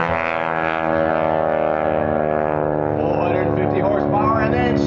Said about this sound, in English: Now, Gary's going to show off a little bit of the power of that 450 horsepower engine as he comes in from your right.